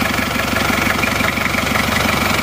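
A diesel Isuzu Panther 2.3 engine idling seven years after a liner rebuild, a loud, close, steady low rumble with a fast regular knocking pulse running unbroken throughout.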